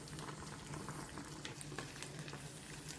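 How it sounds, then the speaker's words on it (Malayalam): Tomatoes bubble in a pot of boiling water, a faint, steady simmer that continues evenly throughout with no talking. "നമ്മുടെ ടൊമാറ്റോ എല്ലാം നല്ല കുക്കായിട്ട് വരുന്നുണ്ട്."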